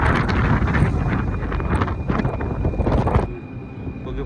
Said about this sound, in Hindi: बहुत खतरनाक हवा चल रही है यहाँ से